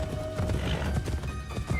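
Horse hooves clip-clop steadily in the video game Assassin's Creed Shadows, with a whinny and neigh among loud, close galloping and game ambience, and no talk over it.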